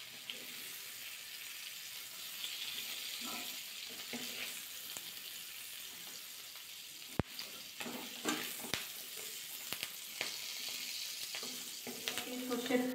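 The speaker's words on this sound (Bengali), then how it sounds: "হালকা কিন্তু ভাজা করে নিয়েছি ডিমটা আর ক্যাপসিকামটা" Egg and capsicum frying lightly in oil in a pan, a soft, steady sizzle with occasional stirring scrapes and clinks growing busier toward the end, no talking.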